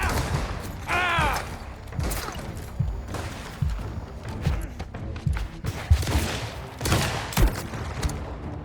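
Gunfire from the video game Mafia: The Old Country, a battle of repeated shots and bursts spread across the scene, loud and close, with shouted voices breaking in between volleys.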